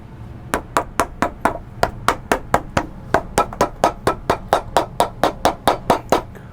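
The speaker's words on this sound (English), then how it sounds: "Let's take it to the last and we'll hammer it down" A hammer strikes a boat shoe's new sole down onto the last during a Sperry resole, about two dozen sharp close taps in a quick, mostly even rhythm, with no talk.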